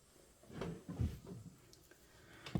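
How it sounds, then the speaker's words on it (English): A table is nudged by accident, giving a few soft wooden knocks and bumps over a quiet room, with no one talking. "Oh, whoops, accidentally nudged my table there."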